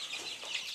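Chickens, among them Dark Cornish birds, clucking inside a chicken house; a soft, steady murmur of overlapping clucks with no voices over it.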